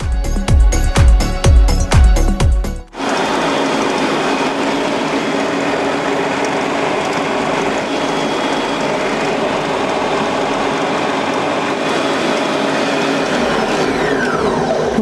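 An electric mixer whips egg yolks into a foamy mixture, giving a loud, steady whirring drone that runs unbroken for most of the stretch after a brief rhythmic clatter at the start.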